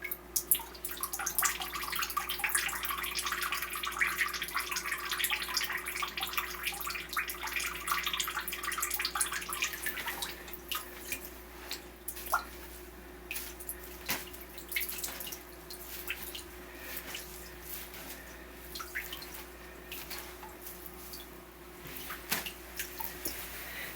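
Water draining and dripping from a doll, a steady trickle under scattered close drips that thin out and become more separate toward the end.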